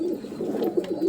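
Pigeons coo softly in a short run of low, rounded murmuring calls, close by, with no talking.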